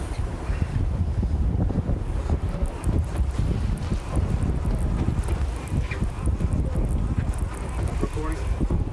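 Pleasure boat engines run in gear, a loud steady low rumble blended with heavy wind buffeting the microphone, continuous throughout without a break.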